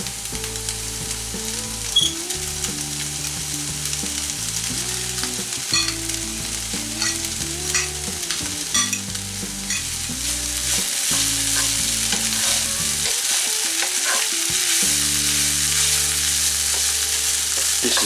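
Basmati rice stir-fried with vegetables in a pan gives off a steady sizzle with occasional stirring scrapes, partly under background music, growing fuller in the second half.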